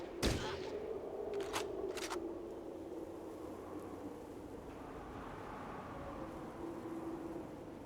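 Shotgun blasts in the video game Fallout Tactics: one loud sharp report followed by two quicker, fainter shots, then a low rumbling ambience lingers.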